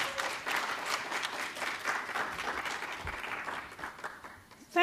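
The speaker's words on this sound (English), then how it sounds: "Please give a round of applause for Mimi." An audience applauds as a speaker comes on stage at a book event, a full burst of many hands that thins and fades toward the end, with a voice starting up at the close.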